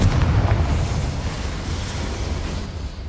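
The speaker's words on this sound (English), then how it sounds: "Confringo!" A Confringo spell explodes in the video game Hogwarts Legacy, a loud, deep rumbling blast that booms at the start and rolls on as a sustained roar for several seconds without speech.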